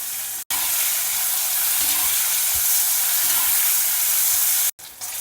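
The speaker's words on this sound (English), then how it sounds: "We'll add it to the oil and fry it till it is a bit crisp also." Bitter gourd pieces frying in oil in a kadai over a medium flame give a loud, continuous close-up sizzle and hiss. The sound cuts out briefly near the start and again near the end.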